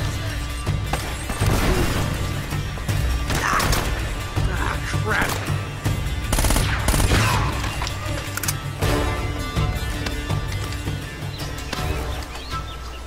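Mounted machine gun fire in Uncharted: Drake's Fortune sounds as dense, chaotic bursts with crashes and impacts, while a person talks excitedly over the action.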